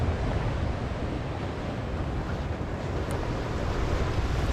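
Strong gusting wind roars at a campsite where a tent is pitched, a dense and loud rush that buffets the microphone without pause, with no one speaking.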